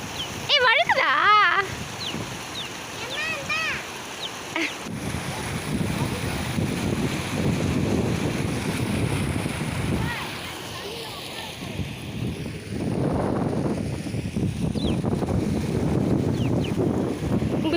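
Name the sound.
waves running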